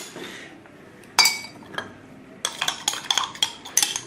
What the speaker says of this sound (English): We are going to stir.